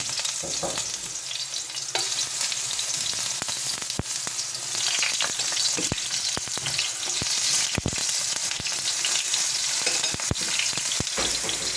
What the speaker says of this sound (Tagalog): mainit na po ang ating oil. So ayan, magpiprito na po tayo ng ating